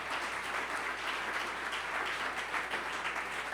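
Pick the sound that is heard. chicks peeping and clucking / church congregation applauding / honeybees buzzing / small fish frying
church congregation applauding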